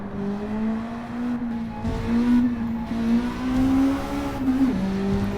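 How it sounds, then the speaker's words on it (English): Sports exhaust on a small car in Gran Turismo 7, the engine note rising and falling through several revs, with a steady droning tone that climbs, dips sharply near the end and then recovers, close and loud with no talk. "This is a much better sound. This is the sports exhaust"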